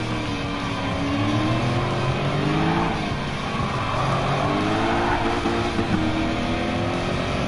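An engine-swapped car in Gran Turismo 7 drones steadily at high revs, its pitch rising and falling through gear changes in a continuous, loud racing roar.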